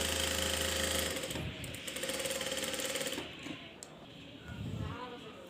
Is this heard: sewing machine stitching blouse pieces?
yes